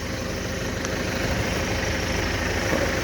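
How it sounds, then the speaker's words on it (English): A tractor-mounted PTO-driven power washer, rated around 3000 psi and used on a Massey Ferguson 35X, runs with a steady droning engine hum and constant spray hiss, loud and unbroken throughout. "There's a tractor PTO power washer on that."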